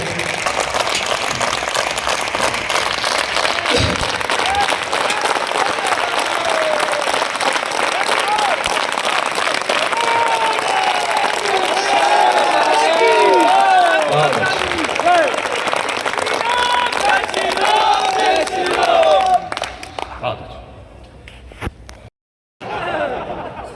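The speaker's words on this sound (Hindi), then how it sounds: "1 मिनट तक गड़गड़ाती हुई तालियां इस उत्सव के नाम" Thunderous applause from an audience at a late-night poetry gathering in bitter cold, dense sustained clapping and crowd noise for about twenty seconds before tapering off with a brief gap.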